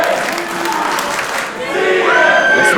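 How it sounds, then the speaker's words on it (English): A crowd cheers and applauds at a professional wrestling event, a steady, loud wash of noise with a few shouts rising above it. "Listening to the crowd though, they sound firmly in favour of the visitors right now."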